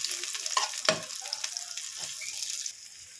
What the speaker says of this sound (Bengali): এখানে কড়া বসিয়ে দিয়েছি সর্ষের তেল দিয়েছি এতে পেঁয়াজ দিয়ে দেবো পেঁয়াজটাকে একটু হালকা করে ভেজে নেব